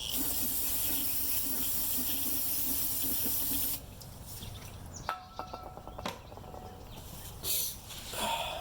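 A mower part being cleaned with a spray, a loud continuous hissing squirt for several seconds, then it cuts off and gives way to quieter handling clatter and a few short knocks and bursts, no talking.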